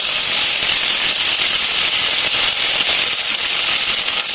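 Mustard seeds, cumin and curry leaves crackle and sizzle in a small amount of hot cooking oil, a loud, steady, close hiss with no talking.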